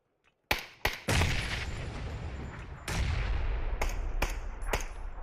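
Gunfire in the PUBG video game, with a few sharp separate shots followed by sustained rumbling bursts and scattered cracks. Loud and dense, with no voices over it.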